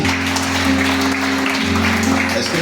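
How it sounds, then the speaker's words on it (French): Clapping from a church congregation during a sermon, a steady spread of applause throughout, with a voice and a sustained low tone running underneath. "Je veux qu'on acclame d'abord pour lui"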